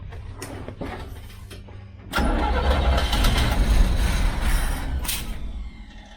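A 1969 Chevy van engine cranks with rhythmic starter churning for about two seconds, then catches and roars into a loud, rough idle that holds steady, heard up close.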